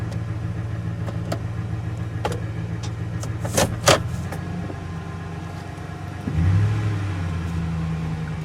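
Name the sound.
truck engine running through the gears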